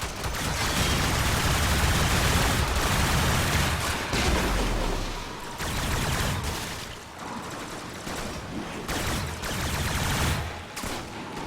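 Gunfire in the Warframe video game: sustained rapid bursts of shots, dense and loud, with short pauses between volleys and a heavy low rumble throughout.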